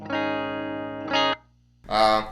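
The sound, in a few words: electric guitar clean tone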